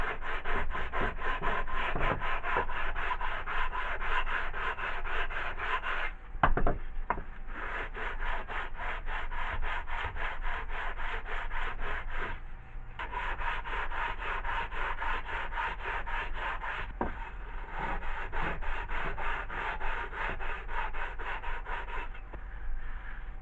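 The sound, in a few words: cleaning up compressor cylinder block base surface by rubbing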